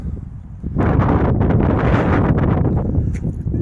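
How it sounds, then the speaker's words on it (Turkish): Strong wind buffets the microphone, a loud continuous roaring rush that swells after the first moment and stays heavy throughout. "Çok güzel bir rüzgar esiyor."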